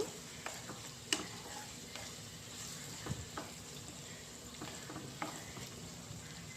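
Ivy gourd (dondakaya) with ginger frying in a pan, giving a steady low sizzle with scattered light ticks and clicks as it cooks, close and fairly quiet with no talk.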